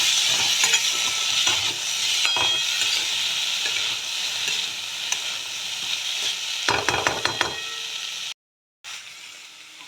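Beans and carrots stir-fried with cashews and green chilli in a hot pan, a steady loud sizzle broken by scraping stirs and spatula clatter, with a brief dropout near the end.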